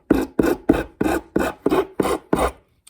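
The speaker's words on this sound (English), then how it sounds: "I'm going to use the Shinto on the finer side, not the coarse side, just the fine side" Fine side of a Shinto rasp filing wood on a cigar box guitar, eight even, rhythmic rasping strokes, close and dry.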